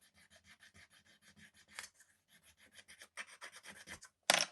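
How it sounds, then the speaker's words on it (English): Wood is rubbed and burnished by hand during kolrosing folk-art carving, a close run of quick rhythmic rasping strokes in bursts, ending with a sharp louder scrape. "Okay. Burnish this."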